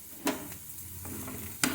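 Garlic and spice masala fry softly in a pan, a low sizzle broken by two sharp scraping clicks of a spoon against the metal.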